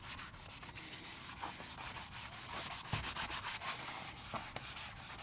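A coarse sanding block of roughly 120 grit scrubs back and forth over a patio screen door, giving a steady rough abrasive rasp with rhythmic strokes, close and fairly loud, with no voices.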